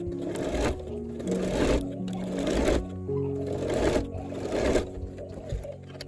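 A sewing machine stitches a folded fabric strap in rhythmic bursts of steady whirring, about four runs separated by brief pauses, close and clear.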